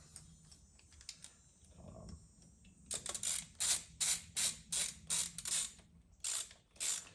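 Bolts are being fitted while a Cobra air intake goes onto a Yamaha Bolt motorcycle, with a quick run of sharp, close ratchet clicks in bursts after a quieter stretch of faint handling noises.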